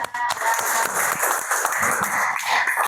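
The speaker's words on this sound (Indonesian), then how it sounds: "Oke, kita beri aplaus." A classroom group claps after finishing their presentation, a steady patter of many hands filling the room without a pause, fairly close and even in level.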